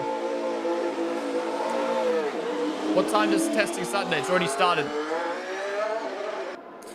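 Cadillac Formula 1 car engine during shakedown testing, roaring and revving as it passes with rising and falling pitch, while people talk over it.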